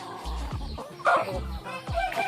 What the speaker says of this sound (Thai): เป็นการให้อาหารไก่บ้านนะครับในช่วงเช้านะครับ